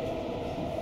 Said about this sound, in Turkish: Evet, metrolar gitmeye başladı arkadaşlar.